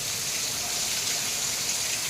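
Heavy, steady rain hisses without a break, a dense wash of falling water close by with no voices.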